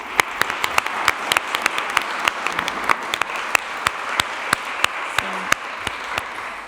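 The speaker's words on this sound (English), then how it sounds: "Can we give a round of applause to..." Applause from a clinical trials panel audience, a fairly sparse crowd with distinct individual claps standing out over a steady patter, lasting throughout without voices.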